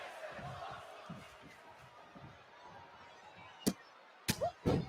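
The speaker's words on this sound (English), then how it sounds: "Already a "this is awesome" chant. Listen to the crowd." Rhythmic chanting from a wrestling crowd during a women's match, a distant arena crowd with pulsing chant beats under faint commentary-like voices, followed by a few sharp loud impacts near the end.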